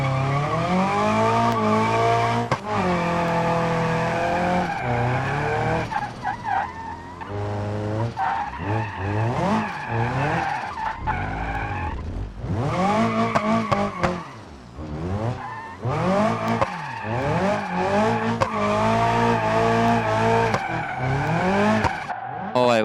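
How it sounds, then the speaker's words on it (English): Car in a racing video game skidding and spinning out, with long wavering tire squeals that rise and fall over a steady engine drone, repeated in near-continuous bursts. "The car is pretty hard to keep, like, from spinning out, basically."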